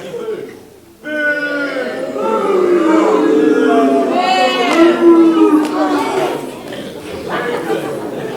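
A high school drama club audience lets out a long, drawn-out group boo, a sustained chorus of many voices that swells and wavers for several seconds before trailing off.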